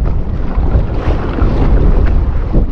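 Strong wind gusting at a seashore where a fishing net is being pulled in, a steady loud roar of broadband noise buffeting the microphone throughout, with no voices.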